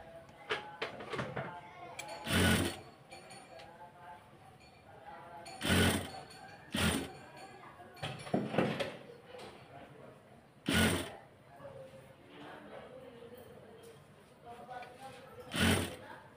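Sewing machine stitching around a round fabric neckline from the inside, heard in several short loud bursts of a few seconds each, separated by quieter handling noises and pauses.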